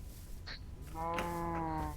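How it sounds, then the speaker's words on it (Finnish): A Minecraft cow gives a single drawn-out synthetic moo, rising clearly above faint background game noise and a short earlier sound. "Ainakin tuolla on lehmä, jolla on joku siisti."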